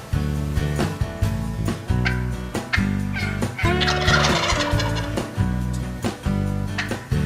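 Young wild turkey jakes gobble again and again in loud rattling bursts over steady music, in an Ontario spring hunt where a hen is also present.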